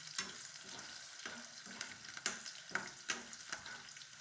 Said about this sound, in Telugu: ఆనియను ఎల్లుల్లి బాగా యాగనిచ్చాలండి